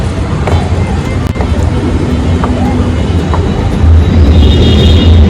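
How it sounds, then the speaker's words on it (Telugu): An overhead metro train rumbles steadily nearby at a station, a continuous low roar with a rising whine, as voices talk faintly underneath. "ఆల్రెడీ పైకి ట్రైన్ పోతుంది. సౌండ్ అయితే వచ్చేస్తుంది."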